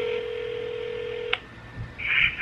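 A steady phone tone holds for over a second, then stops, followed by a short burst of higher beeping tones like keypad dialing.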